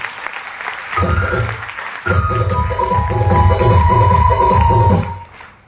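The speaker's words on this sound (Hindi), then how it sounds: "एक बार बजाओ ताली के लिए।" Audience at a business gathering clapping under a loud voice that speaks over it, the applause swelling and growing rhythmic before dropping away.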